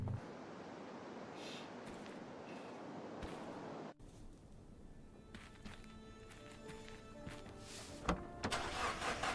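A car engine starting in Don't Escape: 4 Days to Survive gives an abrupt shift from quiet ambience into a steady mid-pitched engine hum, with a louder burst toward the end.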